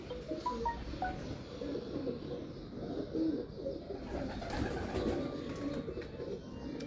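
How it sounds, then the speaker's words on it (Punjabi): A pair of picture pigeons coo softly in a loft, repeated low throaty coos over faint background rustle and light wind, with no speech. "ਲਓ ਜੀ, ਇਹ ਆਇਆ ਕਬੂਤਰ ਕਮਾਲ ਦਾ, ਨਵਾਂ ਜੋੜਾ ਤਸਵੀਰ ਵਾਲਾ ਕਬੂਤਰ ਹੈ।"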